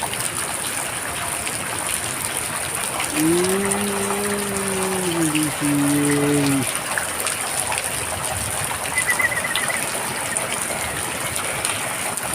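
Heavy rain falls with water running and gushing nearby, a constant broad rush that stays level throughout, while a brief low tonal hum or call rises over it partway through.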